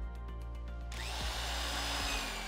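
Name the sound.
drilling a chase through stacked logs for electrical wires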